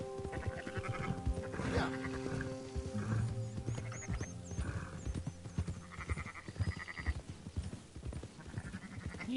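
Sheep bleat repeatedly in the video game Red Dead Redemption 2, close and fairly loud amid a busy layered mix of other game sounds, with a brief spoken word near the start.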